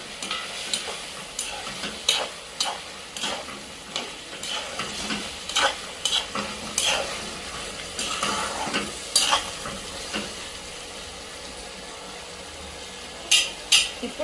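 Four medium-small chopped tomatoes frying in a pan for mushroom curry, a faint continuous sizzle under frequent light scraping and tapping of a spoon against the pan.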